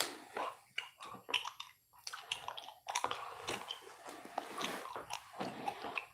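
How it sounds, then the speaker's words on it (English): Gum being chewed close to the microphone, with wet smacking and squishing bites in an irregular, continuous rhythm, quiet and alone with no talking. "I hope some of you are enjoying the gum chewing."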